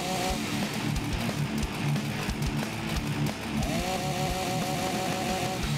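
Chainsaw revving continuously in the zombie video game Walking Zombie II, a steady buzzing drone with rising and falling pitch sweeps, loud and alone throughout.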